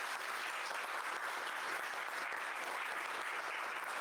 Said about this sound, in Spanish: les damos otro fuerte aplauso